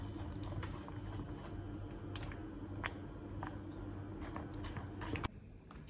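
Cream custard bubbles and boils in a pan on the stove, a steady low simmer with scattered soft pops and ticks throughout, close and moderately quiet.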